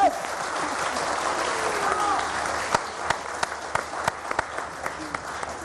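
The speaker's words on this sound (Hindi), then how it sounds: "बस मैं भी ताली बजा लूं।" A studio audience at a televised Iftar show claps in a soft, continuous patter. Toward the end, a few sharp, louder individual claps stand out nearby.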